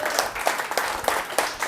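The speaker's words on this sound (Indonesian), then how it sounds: "Berikan sorak-sorai buat Tuhan" Church congregation applauding and cheering during a sermon, a dense spread of clapping with short bursts of louder claps, held steady and fairly close for the whole clip.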